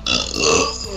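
A single loud, close burp lasting about a second during an Overwatch gaming session, no talking.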